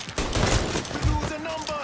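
Rapid bursts of gunfire erupt from a shootout in the video game Mafia III: Definitive Edition, loud and close, with repeated shots overlapping in a dense volley and a voice shouting in the mix.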